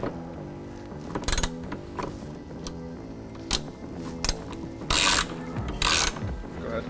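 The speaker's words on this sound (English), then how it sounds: "we're going to take a 3/4 inch socket and tighten up this rear strap" A socket ratchet tightens the rear strap bolt of a 47-gallon replacement fuel tank on a Mercedes Sprinter, with close metallic ratcheting clicks in short bursts between pauses.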